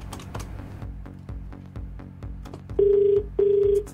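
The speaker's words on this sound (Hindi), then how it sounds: "फ़ोन मिलाओ" A telephone call being dialed: a run of quick dialing key presses, then two long ring tones back to back, clear and close.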